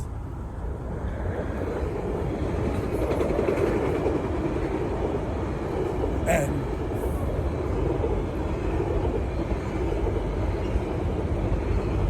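A train passes at a distance, a low, continuous rumble and rolling roar that swells slightly and then stays even, with faint higher rattles and a single brief spoken word near the start.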